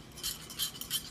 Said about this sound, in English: Then I just give this a good stir